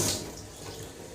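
Tap water runs steadily into a home kitchen sink while hands are washed between cooking steps for chana dal bhapauri, a brief, close and even rush of water with no talking.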